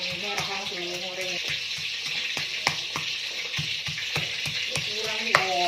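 Red chili frying in a pan, a steady close sizzle under repeated sharp taps and clinks, with voices speaking briefly at the start and end.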